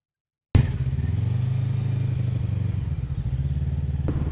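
An FKM Falcon X400 motorcycle is ridden, its engine starting abruptly after silence into a steady, loud low throb with a chugging, pulsing rhythm up close, no talk over it.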